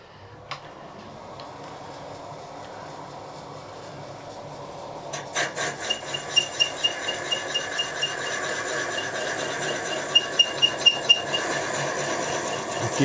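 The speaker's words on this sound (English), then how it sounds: "Decent grade of aluminium this, it's cutting very nicely." A boring head takes light cuts in an aluminium alloy sump on a machine, producing a steady rasping hiss that grows and picks up a rapid, regular ticking chatter partway through.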